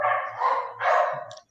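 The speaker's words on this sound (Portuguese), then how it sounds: "Vou pedir desculpas pelo cachorro da vizinha, que tá latindo." A neighbour's dog barks in a run of close, loud, overlapping barks and yips lasting over a second, with a brief quieter gap in the middle before the barking tails off.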